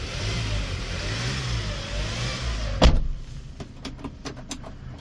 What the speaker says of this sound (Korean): 엔진 소음 좋고요